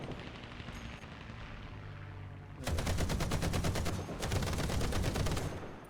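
Rapid automatic gunfire in the naval combat video game The Tigris, bursts of closely spaced shots rattling in quick succession, loud and continuous with a short pause between two long volleys.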